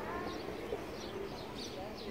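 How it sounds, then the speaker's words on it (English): Pigeons coo softly in the distance under a steady outdoor background wash, with faint bird calls repeating through the scene. "You can see these pigeons, these birds flying around."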